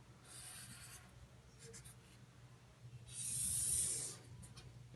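Pen or marker drawing a graph of a straight-line function during a math lecture, heard as quiet scratchy strokes in short bursts with one longer, louder rub near the end, over a low room hum.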